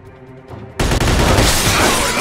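Gunfire erupts in a Chinese restaurant film scene: a loud, dense burst of shots starts abruptly after a brief quiet moment and continues without pause to the end.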